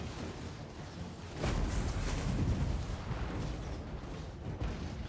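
Massed musket and artillery fire in a Total War: Warhammer 3 battle, a dense continuous barrage of overlapping shots and booms that swells after the first second and keeps rumbling alone, with no talk.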